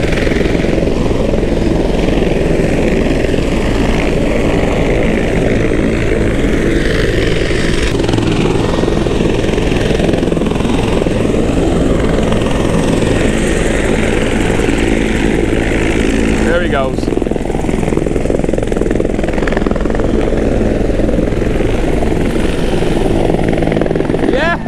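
A Royal Canadian Air Force helicopter flies overhead at a Toronto airshow over the water, heard from a Sea-Doo, its loud, steady rotor drone filling the whole stretch beneath voices and the rush of wind and crashing waves.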